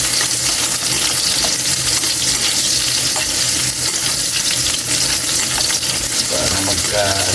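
Squid with garlic and onion frying for adobong pusit, a loud, dense sizzle and crackle with stirring scrapes running unbroken and close, no voice over it.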